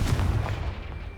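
A Confringo fire spell blasts in Hogwarts Legacy, a loud close booming burst with a rumbling tail that fades over about a second, alone with no talk.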